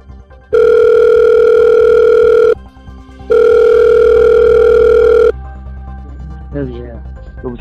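Telephone call being placed, with two long, loud, steady ring tones separated by a short pause, followed by quieter line noise and a brief burst of sound.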